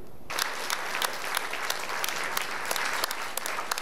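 Sudden applause erupts and continues as a brisk crackle of many hands clapping at a press event for the Toyota Thailand Open 2024 badminton tournament.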